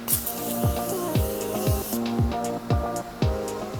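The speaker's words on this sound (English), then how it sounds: "the last thing I do need to do is add my Morphe spray" A hissing mist of Morphe makeup setting spray over the first two seconds, mixed with steady rhythmic background music that continues after the spray stops.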